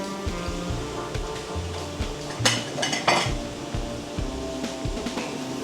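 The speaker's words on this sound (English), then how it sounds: "Squashing down the burgers." Spatula scraping and pressing cheeseburgers and onions on a busy diner flat-top grill, with repeated metallic clinks and scrapes over a steady sizzle and kitchen hum, plus a couple of louder clatters midway.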